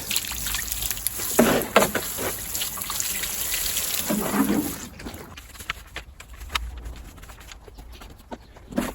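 Water drips and trickles from underneath a compost pile outdoors, in scattered soft drops and brief splashy bursts at an uneven rhythm, close by over a low background hiss.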